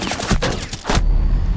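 Gunfire in Rainbow Six Siege, a team deathmatch hostage round on the Kafe Dostoyevsky map: several loud, close shots in a quick burst, then a sustained low rumble and ringing after the shooting stops.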